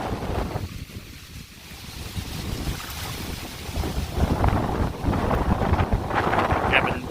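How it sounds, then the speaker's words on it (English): Strong wind roars steadily across the microphone in heavy gusts over a pond at Presque Isle, with a faint lapping of water beneath the buffeting. "But you see just how windy it is here, even in the pond"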